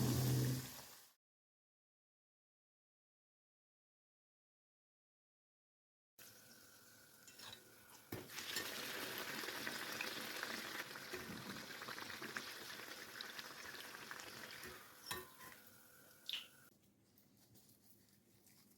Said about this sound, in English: Time to deep fry the kachoris or puris in hot oil.